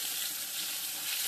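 Potatoes and eggplant fry steadily in a pan with black cumin and fenugreek seeds, giving a continuous bright sizzle with no breaks and no voices.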